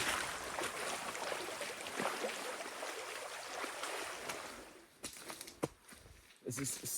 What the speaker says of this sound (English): My road has turned into a creek.